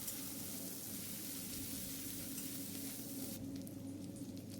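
Garlic and ginger paste sizzles in hot oil with green chillies, a faint, even crackling hiss that steadies and softens slightly near the end, close and without any talking.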